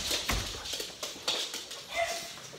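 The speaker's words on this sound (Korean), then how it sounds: "아, 우리 강아지들." Pet dogs at home whimper and yip in short, high-pitched bursts, close by, with no talking.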